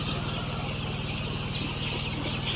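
A flock of around 2,000 H&N breed chickens clucks continuously in a dense, busy chorus under a steady background hum, close and fairly loud.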